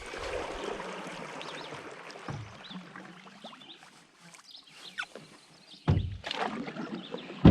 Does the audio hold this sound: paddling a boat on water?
yes